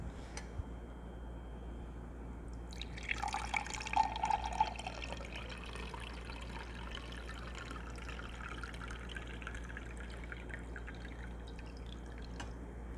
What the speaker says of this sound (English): it's time for me to actually slowly put the plunger down and decant our cold brew.